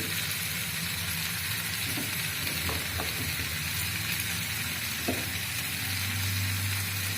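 Crab pieces fry in a pan with turmeric, salt and chili while being stirred, giving a steady broadband sizzle with occasional scraping knocks from the stirring throughout.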